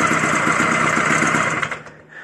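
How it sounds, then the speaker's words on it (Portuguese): Cold engine of a motorized bicycle idling, a rapid, buzzy putter close by that runs steadily then sputters and dies out near the end. "O motor estava frio, tinha ligado só para fazer o vídeo."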